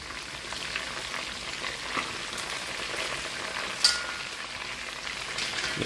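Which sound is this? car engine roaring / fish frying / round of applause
fish frying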